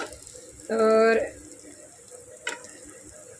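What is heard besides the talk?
stuffed bitter gourds sautéing in a pressure cooker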